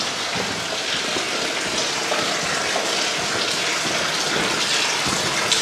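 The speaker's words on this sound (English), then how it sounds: "The only sound you ever hear in the mine is water running" Water running steadily inside an emerald mine in New Jersey, a continuous splashing gush that stays loud and even from start to finish, with no voices.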